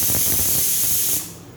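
A pressure cooker cooking basmati rice lets out a loud, sustained steam whistle and hiss that cuts off abruptly after about a second, leaving a softer fading hiss.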